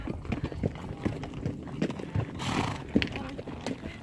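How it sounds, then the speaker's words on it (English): Horses on an Arizona trail ride clop along with irregular hoofbeats and snorts, one neighing briefly partway through, while people talk nearby. "This is my horse. He's one of the biggest."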